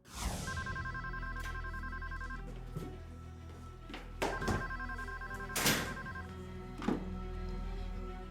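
A telephone rings at night in two long electronic bursts, fairly faint over a low hum, with a few dull knocks and thumps in between.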